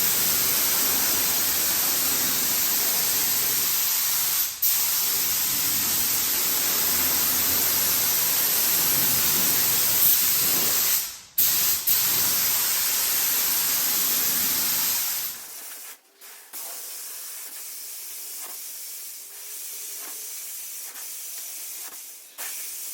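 A spray gun hisses steadily and close by as a second coat of paint goes onto a Leer truck camper, then cuts off abruptly, leaving quieter intermittent bursts.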